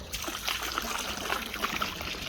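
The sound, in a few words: potassium permanganate solution poured into a koi pond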